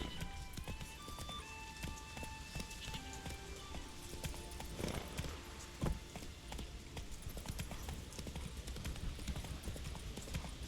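Roach the horse trotting in a video game, a steady clip-clop of hooves with a brief whinny partway through, set against a busy background of ambient sounds.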